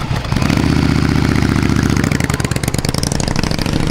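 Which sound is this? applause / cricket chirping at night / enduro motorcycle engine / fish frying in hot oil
enduro motorcycle engine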